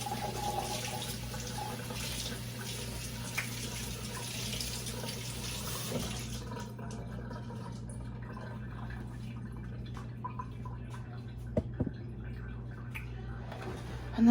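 Tap water runs steadily to rinse lime off water-glassed eggs, a close, continuous splashing flow for about six seconds that then drops away to quieter drips and trickles.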